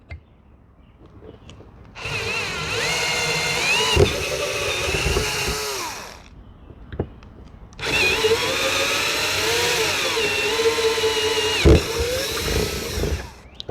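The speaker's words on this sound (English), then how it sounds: "Now that we have the 4 pilot holes drilled, we'll go in with the larger bit" A power drill with a larger bit enlarges pilot holes in a Honda Rebel 1100 batwing touring windscreen, running in two long, loud, close whining bursts separated by a short pause with light clicks in between.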